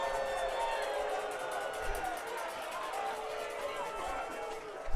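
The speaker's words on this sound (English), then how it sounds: "from the Hamilton crowd, not happy with that call" The home crowd at a Hamilton football game jeers a penalty flag called after a sack celebration, a broad sustained roar of disapproval from the stands under a commentator's steady talk.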